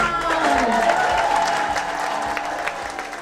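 A festival audience claps and cheers at the close of a theatre festival in Wolverhampton, loud and dense at first, then gradually thinning out.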